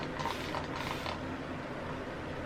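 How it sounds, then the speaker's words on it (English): A spray bottle sputters out a harsh, uneven hiss for a couple of seconds, the mist breaking and catching instead of flowing as a continuous mist. "My little post spray bottle is struggling."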